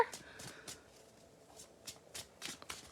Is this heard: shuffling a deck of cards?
yes